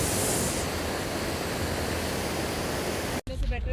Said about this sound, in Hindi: ये देखिए आप झरना, झरना शानदार है भाई एकदम